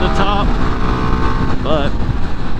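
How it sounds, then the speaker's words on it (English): A CF Moto 300NK single-cylinder motorcycle pulls hard under acceleration, its engine roaring loud and close beneath heavy wind buffeting, with the pitch swinging upward briefly as the throttle opens. "There's nothing like ripping through all the gears on a slow ass bike, twisting the throttle back and letting her eat"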